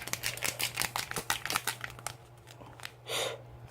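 Plastic packet of water-purifying agent and shrimp eggs crinkles and rustles as hands turn it over, a quick run of sharp crackles followed by a softer rustle near the end, close and fairly quiet.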